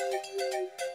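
A phone ringtone plays during a call in a Hindi family drama scene, a steady electronic melody pulsing in even repeated bursts, moderately quiet, with no voices over it.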